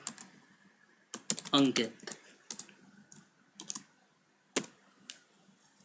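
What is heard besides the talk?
typing on a computer keyboard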